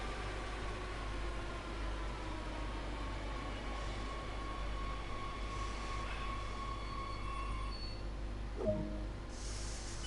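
A train in the Train Sim World game brakes into a platform at about 25 mph, a steady low rumble with faint high brake squeal and a short thump near the end.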